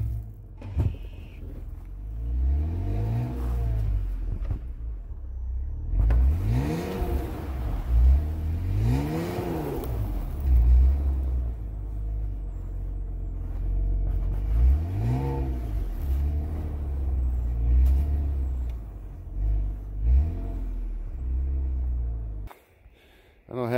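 A vehicle engine revs hard in repeated surges as the wheels spin without traction, dug into snow on a wooded trail. The engine is loud and close, and someone talks over it.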